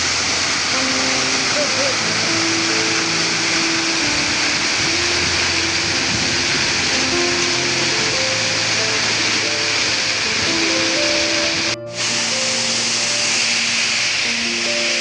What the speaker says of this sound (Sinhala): දිය ඇල්ල අසල තියෙන විශාල ගල් තලාවක් මත වාඩි වෙලා දැස් පියාගෙන මේ දිය රාවයට සවන් දෙන්න